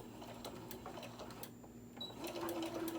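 A sewing machine back stitches a zipper pouch, a fast, steady mechanical whir that runs close and continuous, picking up slightly toward the end.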